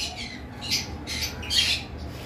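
Lovebirds give two or three harsh, shrill squawks close by, with short gaps between them and little else around.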